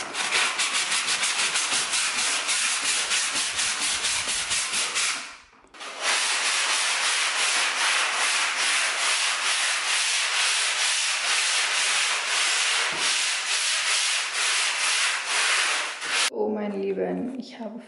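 Power sander working a kitchen wall, a loud continuous abrasive rasp that drops out briefly once before resuming steadily, ending with a voice speaking.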